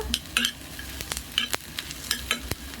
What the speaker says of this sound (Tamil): கொஞ்சம் மிடில் நான் ஆயில் விட்டுட்டு ஒரு பதினஞ்சுலேருந்து இருபது முந்திரி போட்டிருக்கேன் இந்த முந்திரி வெங்காயம் லைட்டாக வதக்கினா போதுங்க